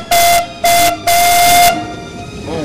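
A steam locomotive whistle sounds three times, two short blasts then a longer one, loud and close, with steady hissing steam between and after.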